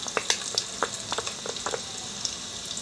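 Garlic dropped into hot oil for chicken tinola, sizzling and crackling with sharp irregular pops over a steady hiss, close and moderately loud.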